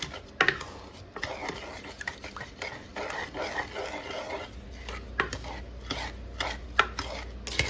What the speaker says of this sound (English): I'll give it a little stir.